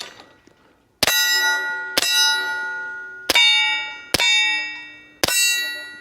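A suppressed M9A4 pistol's rounds strike a steel target five times at irregular intervals, each hit a sharp clang that rings out with a long, bell-like metallic decay.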